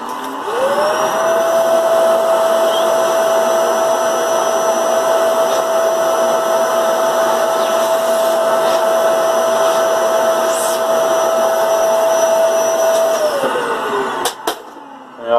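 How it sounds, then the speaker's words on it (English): A vacuum cleaner hoovers debris off the circuit board of a Roland SH-101 synthesizer during a teardown, its motor spinning up to a loud steady whine, holding for about twelve seconds, then winding down with a few clicks. "I just hoovered up a bit that I could."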